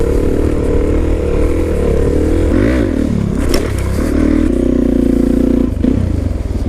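A Harley-Davidson V-Rod muscle cruiser engine runs loud and close, a steady rumble with rising and falling revs and a few rattling, scraping accents.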